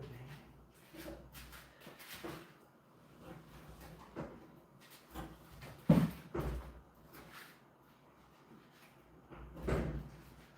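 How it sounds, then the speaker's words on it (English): A door running on a track gets knocked off it, giving a sharp, close clunk partway through amid softer shuffles and knocks, with another thud near the end. "We have a door that's on a track, and I just knocked it off the track."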